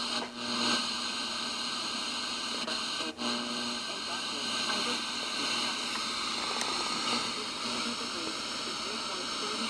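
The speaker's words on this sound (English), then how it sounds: "You can hear a little bit of the weather band right there." Weather band reception on a late-1990s Thomas radio, a steady hiss-filled broadcast with faint tonal hum and crackle running throughout at moderate volume, a couple of sharp clicks early on.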